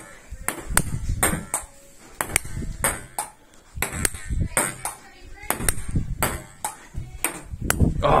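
Ping pong ball bouncing off a cell phone used as a table tennis paddle, sharp bright clicks in an irregular rally rhythm, close and crisp over soft room noise.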